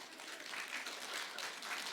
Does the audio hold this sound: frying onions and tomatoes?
no